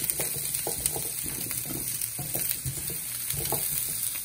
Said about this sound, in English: prepare the meatballs. Make sure that they're nice and brown.